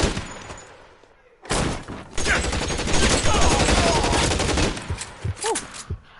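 A shootout in the video game L.A. Noire erupts into a loud, dense volley of rapid gunfire after a quiet start, then thins into scattered single shots.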